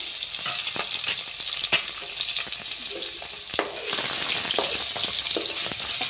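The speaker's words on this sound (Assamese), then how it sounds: "এতিয়া তেল গৰম হোৱাত মই ডিমকিটা দি দিম।" Eggs rubbed with salt and turmeric sizzle in hot oil, a steady crackling fry with sharp pops and spatters throughout, close and moderately loud.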